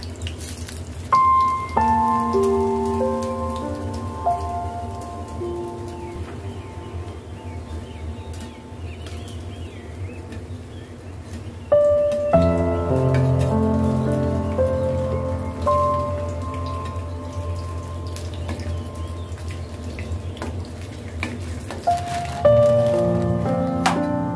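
Frozen Kazi Farms samosas fry in hot oil with a steady, rain-like crackle and sizzle running throughout, while tonal background music plays over it.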